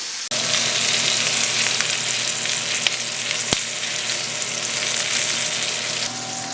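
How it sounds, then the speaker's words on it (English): Boiled sausages being fried in a pan give a loud, dense, continuous sizzle that starts abruptly and holds steady, with a couple of faint clicks and no talking. "now I will just go and fry them a little bit just to get some color"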